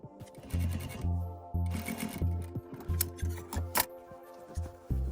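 A sewing machine stitches a straight seam along a self-welt cord on a throw pillow, running in bursts of rapid mechanical whirring that stop and restart, close and fairly loud, with no talking.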